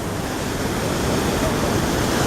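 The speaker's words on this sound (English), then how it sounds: "Got another waterfall over there." A constant, dense rushing roar of falling water from a waterfall at Tahquamenon Falls State Park fills the scene, broad and steady without pause.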